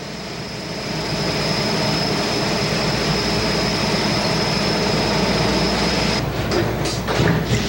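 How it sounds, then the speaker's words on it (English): CRT metal parts tumble with hundreds of pounds of pebbles, producing a loud, continuous grinding rumble with a steady high whine and a few sharper clanks near the end. "After the parts are formed, they are tumbled with hundreds of pounds of pebbles to smooth off the rough edges."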